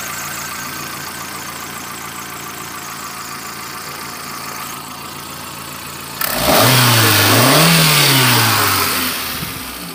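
A 2007 Hyundai Santro XO petrol engine idles steadily, then a sharp blip of the throttle revs it up loudly, holding high before easing back down, with no voices.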